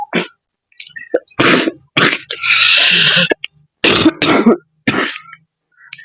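A series of short, harsh coughs and throat-clearing bursts close to the mic, separated by brief silences, with one longer rasping stretch.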